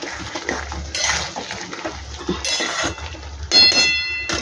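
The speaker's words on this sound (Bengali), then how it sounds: "দিয়ে দিলাম, নেড়ে এবার ঢাকা দেবো।" Potato curry with posto stirred in a pan, then a lid set down, giving close, loud metallic scraping and clinking with a bright ringing clank toward the end.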